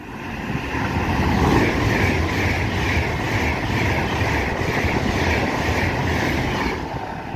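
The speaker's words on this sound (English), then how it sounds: "passing through now is another Pendolino going from Manchester to London" A Pendolino train from Manchester to London speeds through Wolverton station on the West Coast Main Line, a loud sustained roar with rushing hiss and wheel clatter that swells and stays steady before tapering off.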